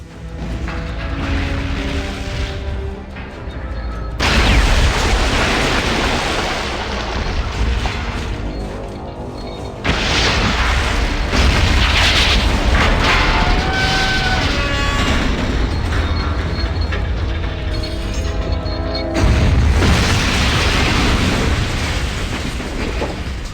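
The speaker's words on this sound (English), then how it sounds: "Seems I died in the explosion." A base explosion in the 1997 Fallout game, heard as long, roaring blasts of loud rumbling noise. Several surges break in around a quarter, halfway and four-fifths of the way through, with no talking.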